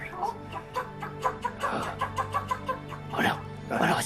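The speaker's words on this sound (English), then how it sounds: "Oh no, it's a chicken." Chicken clucking in a video game, a series of short rhythmic clucks mixed with bursts of voices talking over it, close and moderately loud.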